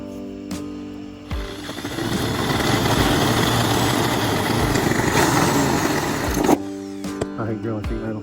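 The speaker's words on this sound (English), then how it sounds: "I hate drilling sheet metal." A power drill whines steadily and grinds against a sheet metal SUV roof for several seconds, with a short start before it and a few clicks and clanks after it stops.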